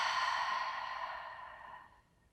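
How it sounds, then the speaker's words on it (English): A single open-mouth exhale during yoga breathing, a soft breathy whoosh up close that fades out over about two seconds. "Open mouth exhale."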